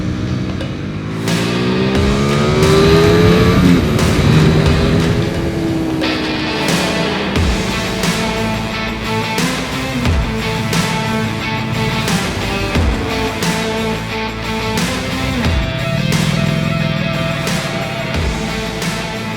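A Ducati V4R motorcycle engine revs hard on a racetrack, loud and close, with a dense roar, rising and falling pitch sweeps through gear changes, and repeated sharp shifts across the run.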